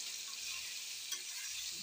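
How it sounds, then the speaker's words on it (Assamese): Ginger and garlic fry in a pan for chicken curry, giving a faint, steady sizzling hiss that runs unbroken and alone for under two seconds. "এতিয়া অলপমান ভাজি থাকিম পানীতে"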